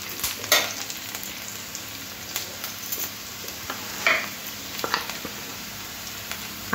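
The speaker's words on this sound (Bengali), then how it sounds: "একটু ভেজে নিতে হবে, বেশি ভাজার দরকার নেই" Yam and prawns frying in a pan, a soft continuous sizzle broken by sharp crackles and spits of hot oil, fairly close with no talking.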